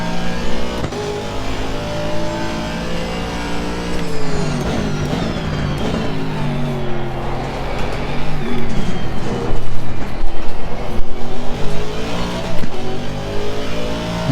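An Aston Martin V8 race car roars around Zandvoort in Assetto Corsa Competizione, its engine loud and close, rising and falling through gear changes and braking with a rough, rumbling edge, no voices.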